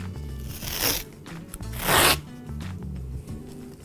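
Victor rigid sports tape unrolled and wrapped around a thigh during knee taping gives raspy tearing strips, two louder pulls among softer rustling, close and with no talking.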